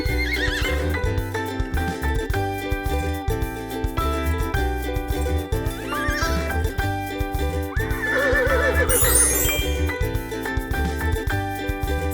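Horse whinnies and neighs rising over a rhythmic music track, with a long drawn-out neigh near the end and some clip-clop hoofbeats.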